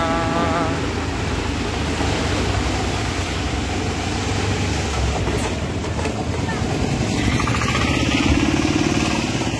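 Motorbike ridden through deep flood water on a road, a steady loud engine drone mixed with continuous splashing and wash close by, with no let-up throughout.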